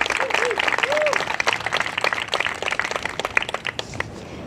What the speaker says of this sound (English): let's give a big round of applause to all of our finalists